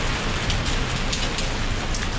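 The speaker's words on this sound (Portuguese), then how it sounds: "Olha essa chuva." Heavy rain pours down in a dense, constant hiss of drops striking surfaces, loud and close without any voices.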